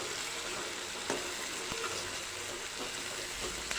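A frying pan of tomatoes with cumin powder, red chili powder and turmeric sizzles steadily while being stirred for a Kathiawadi spring onion and sev curry, with occasional scraping clicks of the spoon and no talking.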